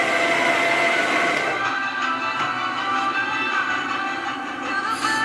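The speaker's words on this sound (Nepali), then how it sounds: "अनि मिक्सी चाहिँ 2 मिनेटको लागि गर्न सक्नुहुन्छ" A kitchen mixer grinder blends milk cream with cold water for homemade ghee, whirring loudly and continuously up close with a steady motor whine throughout.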